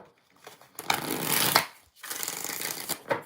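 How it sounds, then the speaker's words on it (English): A deck of Everyday Witch tarot cards is shuffled in two brisk riffling bursts separated by a short pause, close and crisp, with no talking over it. "5 shuffles."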